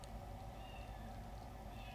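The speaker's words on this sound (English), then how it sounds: "Oh, I hear my kitty." A pet cat meows faintly somewhere in a house, a thin, distant cry sitting low under steady background hiss, with no talking over it.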